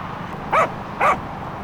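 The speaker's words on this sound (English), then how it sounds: "Is that your dog?" A dog gives two short, sharp barks about half a second apart, close and fairly loud over a steady background hum.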